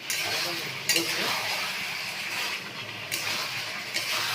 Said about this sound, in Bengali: মাংসটাকে একটু ভালো করে কষবেন